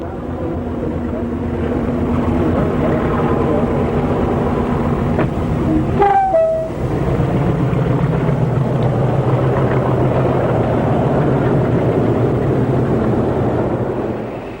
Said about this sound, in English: In September 1983, the Loco arrives and then departs Settle, heading south.